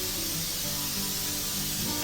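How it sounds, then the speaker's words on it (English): Nonstick cooking spray hisses from a can onto a metal cooling rack set out for beef kebabs, one steady, close, unbroken spray lasting about two seconds. "I'm going to take some nonstick cooking spray and I'm just going to spray this here"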